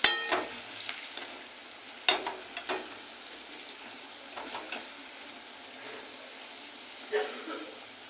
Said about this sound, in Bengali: বড়াগুলো ভাজা হয়ে গেছে, এবার তুলে নেব।